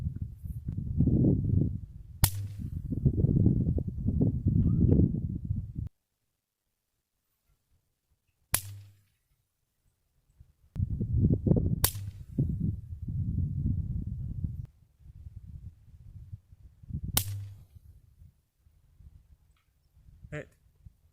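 A Savage Mark II .22LR rifle fires at long range, giving four sharp, isolated cracks spaced several seconds apart, mixed with stretches of nearby talk.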